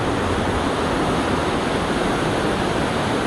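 The river rushes hard through the Aareschlucht gorge in Switzerland, a loud, dense, continuous roar of water with no voices.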